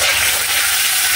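Tilapia fries in hot oil in a pan, a loud, dense and continuous sizzle with steady crackling and no pauses or voices.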